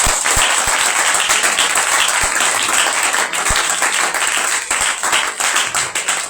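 Church congregation applauding together, a dense sustained wash of many hands clapping throughout, loud and close, with occasional sharper claps standing out.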